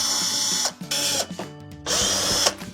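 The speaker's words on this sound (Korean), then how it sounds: "자, 육각 볼트 풀어줬고요." Power driver spinning out a hex bolt during a disassembly job: two long, loud whirring bursts with a brief stuttering pause between them, close up and without talk.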